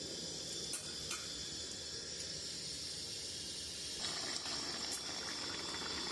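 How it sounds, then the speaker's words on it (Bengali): Egg and jackfruit curry simmers in a pan after a small splash of water, a steady soft bubbling hiss running throughout with a few faint clinks, close and quiet, no voices. "আমি এইটুকুই জল দেবো।"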